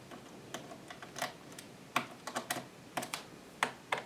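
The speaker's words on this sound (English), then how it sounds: "have to unscrew all these screws at the back of the computer" Small screws on the back of a Toshiba Satellite P755 laptop are worked loose, giving sparse, quiet clicks and ticks in an irregular rhythm, close up against a silent background.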